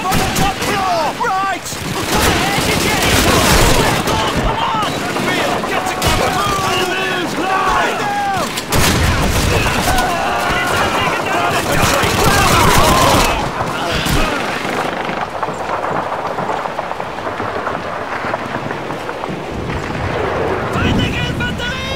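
WW2 battle gunfire in Call of Duty 2, with rifle shots, machine-gun bursts and heavy explosions booming close and loud over shouted voices for the whole stretch.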